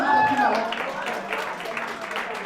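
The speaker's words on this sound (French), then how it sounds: "Mais on applaudit pour la candidature du Maroc." Applause from an audience at a competition, greeting Morocco's candidacy: steady mixed clapping under a loud hall with murmuring voices, fairly close and sustained.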